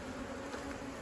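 Agitated honeybees buzzing steadily at a hive in an old monastery on Achill, a dense continuous close-up drone with no break and no talking.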